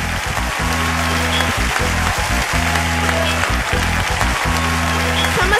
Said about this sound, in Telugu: చప్పట్లు కొట్టు దేవుని నామాన్ని మహిమపరచుదాం.